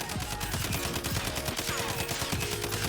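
Rapid automatic fire from a SCAR assault rifle in a first-person shooter, a dense, steady stream of close, loud shots running without pause under a busy game soundscape.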